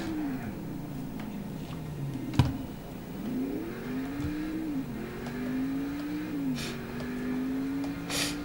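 A car engine revving in Next Car Game, pitch climbing and dipping through several rising sweeps, with a sharp crash-like thump early on and a few clattering bursts later, moderately loud and steady.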